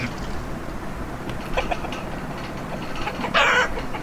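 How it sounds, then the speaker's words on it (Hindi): Chicken clucking in the Nunchuck Charlie video game, a few short clucks over steady game background noise, ending in a louder squawk near the close. "ये मुर्गी क्यों आ गई?"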